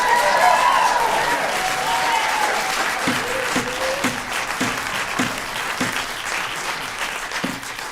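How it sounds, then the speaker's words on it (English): Audience applause fills a city council meeting, steady dense clapping from a crowd that holds for the whole stretch and gradually thins slightly, with a few faint voices underneath. "Now, I allowed you all to to applaud,"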